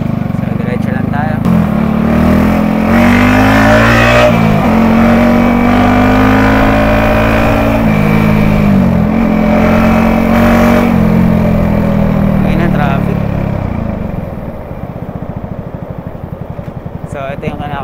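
Motorcycle engines drone and rev steadily in busy traffic, with pitch rising and falling as riders accelerate, loud and close throughout, fading slightly near the end.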